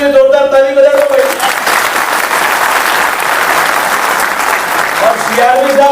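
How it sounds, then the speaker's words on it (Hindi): Loud audience applause for railway staff at a gathering of railway employees, sustained clapping through the middle with a voice speaking at the start and end. "तो अपने रेस्टोरेंट के लिए भी जोरदार ताली बजा दो भाई"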